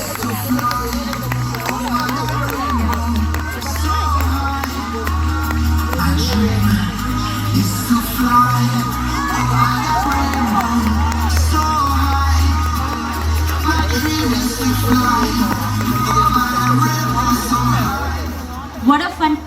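Parents at a kindergarten sports day cheer during a children's running race, a steady crowd roar of shouts and babble that holds loudly throughout, with a loud amplified voice over it.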